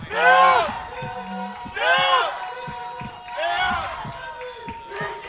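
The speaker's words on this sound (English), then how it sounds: "we are very happy to hear the both teams having a cheer off" Two youth archery teams shout rhythmic chants back and forth in a stadium at a European championship, three loud bursts of massed voices with brief pauses between them.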